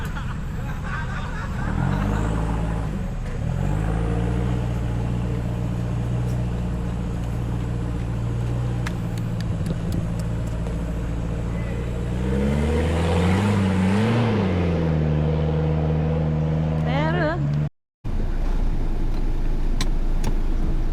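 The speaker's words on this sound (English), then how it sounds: "After about 20 minutes, the stuck vehicle is finally out of the hole." An off-road vehicle engine in a jungle revs and strains as it pulls free of a hole, its loud rising and falling drone continuous throughout with a brief cutout near the end, under voices talking.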